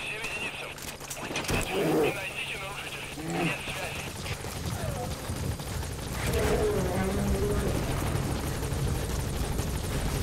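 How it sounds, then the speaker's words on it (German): A helicopter under fire in the video game Metal Gear Solid 5 gives a steady rotor drone with bursts of gunfire, while someone talks over it. "Und der Hubschrauber wird unter Beschuss genommen."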